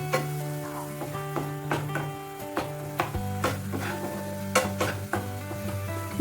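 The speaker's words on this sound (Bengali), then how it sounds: "অল্প জল দিয়ে এটাকে ভালো মতো কষিয়ে নেব।" Ground chilli, coriander and cumin powders are stir-fried with a little water in a pan for paneer tikka masala. A spatula scrapes repeatedly and steadily through a soft sizzle, with a sustained musical tone underneath and no voices.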